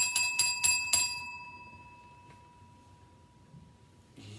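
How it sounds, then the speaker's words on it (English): A bell rung on a TV show, several quick bright rings in a burst at the start, then fading into room noise with a faint rustle near the end. "We got our bell now."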